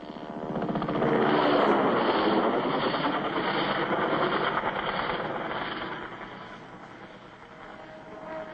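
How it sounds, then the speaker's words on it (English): An AH-1G Huey Cobra attack helicopter gives a loud, steady rotor and turbine roar, close and continuous, easing off slightly toward the end. "This is the Huey Cobra, the world's first helicopter specifically designed for the armed helicopter role."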